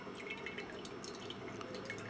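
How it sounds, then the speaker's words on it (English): Blue liquid drains and drips from a house water filter, a faint, quiet patter of small drops and trickling over a low background hum. "You could let it drain all the way."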